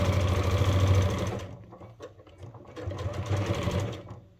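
A sewing machine stitches a sling bag, running in fast mechanical bursts that slow and pause midway before picking up again, close and clear with no talk.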